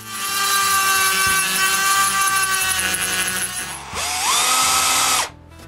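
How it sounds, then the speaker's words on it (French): Small drill boring a tiny shallow hole in wood for an intarsia bookend, a loud steady high whine that dips in pitch as the bit bites, then spins back up briefly before stopping abruptly. "Je perce un minuscule trou peu profond au centre de l'œil, puis je mets de la teinture noire dedans."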